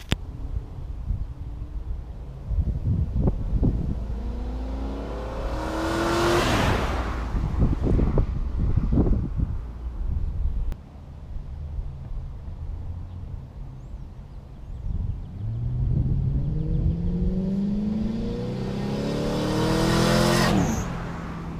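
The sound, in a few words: go-kart drive-by with exhaust cut-out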